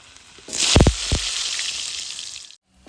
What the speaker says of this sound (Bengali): প্রথমত আমি তেলের মধ্যে আলুর টুকরোগুলো দিয়ে দেব